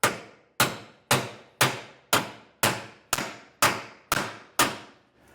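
Ten sharp metallic clangs of a hammer striking a socket fitted onto a bolt of a MORryde ALLTREK 4000 shock-absorbing equalizer on a 2023 Venture RV, evenly spaced about half a second apart, each ringing briefly before the next blow, with no talk.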